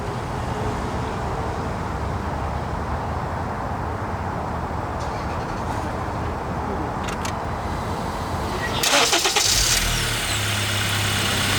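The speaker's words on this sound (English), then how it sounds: "I'm about to start my car, make sure it runs right." A Honda Accord 8th generation with the 2.4L engine starts after a spark plug replacement: a steady low rumble, then a short, louder surge of cranking and catching near the end, heard close by.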